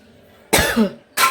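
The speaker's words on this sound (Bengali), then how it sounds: "কাশিটা এখনো কমে নাই" Two sharp, close coughs from someone with a lingering cough, the first a harsh double burst, then a short pause before a second single cough.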